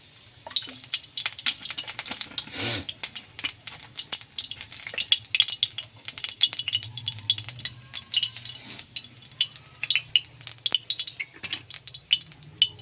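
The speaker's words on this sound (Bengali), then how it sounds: "বাদামগুলো প্রথম অল্প ভেজে নেবো হালকা করে" Peanuts frying lightly in oil for samosa filling, a steady close sizzle with scattered crackles and intermittent scraping stirs, no voices.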